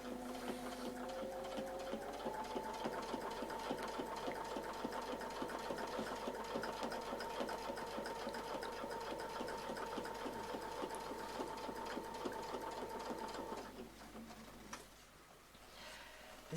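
A sewing machine stitches a curved quilt block for a quilt-as-you-go quilt, a steady, fast rhythmic whir with a sustained tone that runs for about thirteen seconds before easing to a lower hum near the end.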